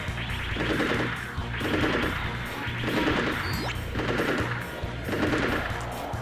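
Machine gun fire in the video game Mobile Suit Gundam: Federation vs. Zeon, rapid rattling bursts repeating in a steady rhythm roughly every second, loud and close over a low game hum, with a brief rising whistle partway through.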